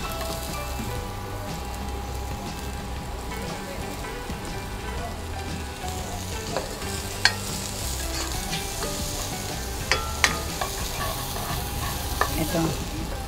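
Chopped onion frying in a hot pan, a dense, steady sizzle close up with occasional scraping and clinking as it is stirred throughout.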